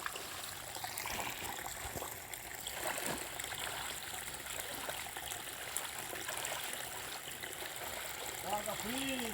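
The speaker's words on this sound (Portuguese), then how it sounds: "Esse riacho está descendo muita água aqui nesse riacho" A rain-swollen creek in the dry sertão backcountry of Ceará, Brazil, rushes past in a constant broadband wash of flowing water, steady and moderately close, with a few faint bird-like chirps near the end.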